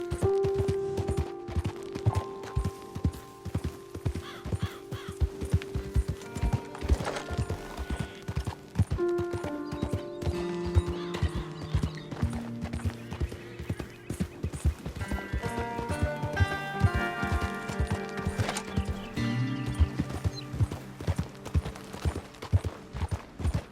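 Horse hooves pound in a rapid, steady galloping rhythm while riding in the video game Red Dead Redemption 2, with game music playing underneath and the gallop continuing close and clear throughout.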